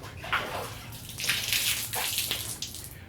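A clean sponge is rinsed in plain water with no soap, giving close splashing and sloshing in uneven bursts, with trickling and dripping between them.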